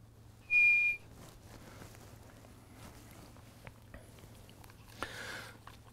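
A single sharp, high whistle blown briefly as a hand-feeding signal for a horse during foundation training, followed by quiet shuffling, soft hoof or chewing sounds, and a faint noisy burst later.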